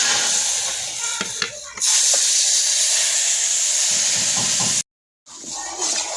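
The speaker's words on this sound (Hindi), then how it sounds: "सूजी हमारी ब्राउन हो चुकी है और अब जो चाशनी बना के रखी हुई है उसमें डालेंगे।" Sugar syrup poured onto browned semolina in a hot pan, giving a loud continuous hissing sizzle that breaks briefly, resumes, then cuts out and returns near the end.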